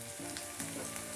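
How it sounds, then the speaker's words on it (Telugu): Curry leaves dropped into onions frying in oil for a coconut egg curry, giving a steady close, bright sizzle with a brief crackling surge as they hit the pan; no voices. "ఉల్లిపాయ ముక్కలు కొంచెం వేగిన తర్వాత ఇందులోకి కొంచెం కరివేపాకు"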